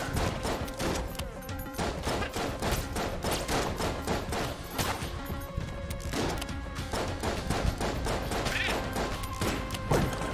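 Shotgun blasts and rapid gunfire from the video game Enter the Gungeon, a dense, loud barrage of repeated shots and crashes that runs unbroken over a busy game soundtrack.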